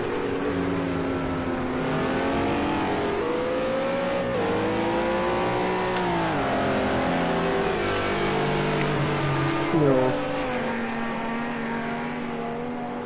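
GT3 and GT4 racing car engines in the video game Project Cars 2 whine and rev continuously, pitch climbing and dropping through gear changes, with a brief louder burst near the end.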